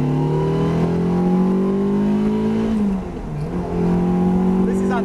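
A car accelerating hard on the Nürburgring Nordschleife, its engine note climbing steadily in pitch, dipping through a gear change and rising again, loud and close from inside the cabin.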